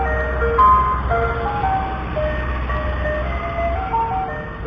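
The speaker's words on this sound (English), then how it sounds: "Don't let that friendly ice cream truck sound fool you." An ice cream truck plays its looping melodic jingle on a city street, carrying steadily for several seconds over a low rumble of traffic, with no talk.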